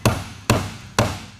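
Three evenly spaced, sharp hammer strikes on nails, each a loud ringing impact, with high school students doing handyman carpentry work for someone in town; no voices.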